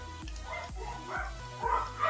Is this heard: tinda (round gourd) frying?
no